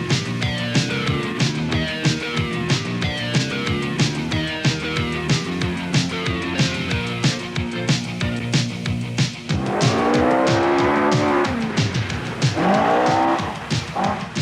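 Ford Escort rally car, a 2-litre Escort driven hard on a New Zealand world championship rally stage, its engine revving loud and close through rapid gear changes, then rasping with tyre squeal and skidding over the final seconds, no talk.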